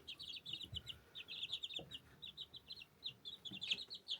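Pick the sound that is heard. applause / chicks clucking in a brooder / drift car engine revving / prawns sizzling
chicks clucking in a brooder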